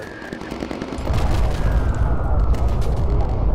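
Bombs dropped from a bomber in the game Bomber Crew explode into a heavy, continuous low rumble that swells after a quieter start and stays loud throughout.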